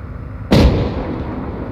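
A single heavy high-explosive cannon shot in Arma 3 booms sharply at close range, then rolls into a long decaying rumble over steady battlefield ambience.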